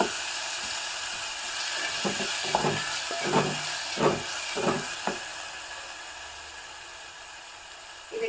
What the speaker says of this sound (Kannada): ಅದಕ್ಕೆ ಒಂಚೂರು ಉಪ್ಪನ್ನು ಹಾಕಿಬಿಟ್ಟು ಸ್ವಲ್ಪ ಎಣ್ಣೆಯಲ್ಲಿ ಫ್ರೈ ಮಾಡ್ಕೊತಿದ್ದೀನಿ